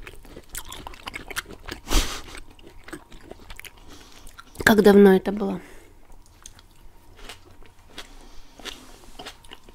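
Shawarma is bitten and chewed close to a sensitive microphone, with one sharp crunching bite, a louder burst of wet chewing, and quieter mouth sounds, while a voice briefly speaks.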